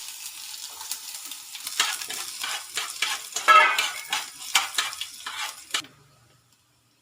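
Onions sizzling in a spoonful of oil with cumin and mustard seeds, stirred briskly with scraping utensil strokes for about six seconds before the pan noise cuts out.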